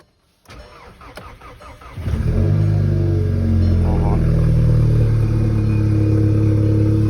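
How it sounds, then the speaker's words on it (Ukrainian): A Volkswagen Golf 6 GTI, a white three-door hatchback, cold-starts: a brief starter crank, then the engine catches with a loud burst and settles into a high, steady idle close by. "Зараз буде холодний пуск. Походу це буде дуже голосно."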